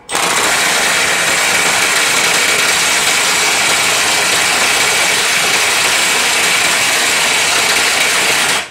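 Dong Cheng DCPB998FK cordless impact wrench tightening a bolt under test, a loud, steady, dense mechanical hammering roar that runs unbroken for about eight seconds with no talking.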